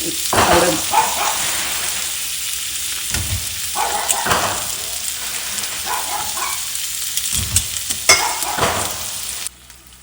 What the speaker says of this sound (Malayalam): ഇതാണ് ഇങ്ങനെയാണ് സാൽമൺ ഞാൻ വറക്കുന്നത് നമ്മൾ അധികം എണ്ണയൊന്നും ഒഴിക്കാതെ വളരെ ഷാലോ ഫ്രൈ ആയിട്ട്